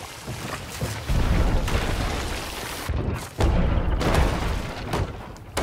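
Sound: ship cannons firing in video game Sea of Thieves

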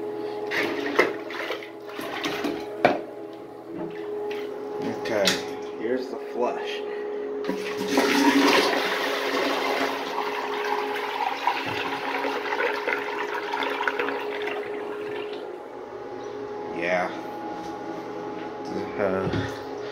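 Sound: flush of a miniature 1989 Kohler Highcliff toilet

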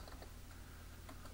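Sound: typing on a computer keyboard

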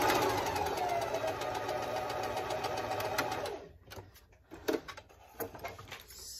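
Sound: sewing machine stitching a French seam

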